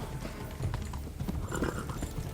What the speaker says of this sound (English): Está gritando el caballo, o tiene hambre o no sé qué le pasa